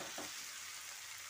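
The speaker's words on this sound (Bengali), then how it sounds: "এঁচোড় ও আলুটা দিয়ে মশলার সঙ্গে খুব ভালো করে মিশিয়ে নিচ্ছি।" Boiled jackfruit and potato being mixed into frying masala in a pan, a brief faint hissing sizzle with a soft stir near the start and no speech.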